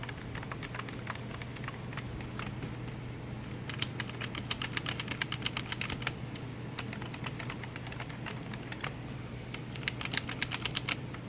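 Fingers type on a computer keyboard at a gaming PC setup, bursts of quick close-up key clicks and taps with short pauses between runs, over a low steady electrical hum.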